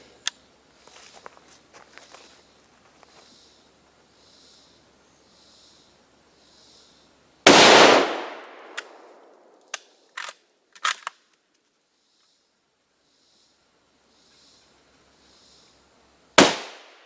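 A Mossberg bolt-action rifle fires outdoors: one loud, sharp shot with a ringing decay, then a sparse series of fainter clicks and knocks, and a second sharp report at the very end.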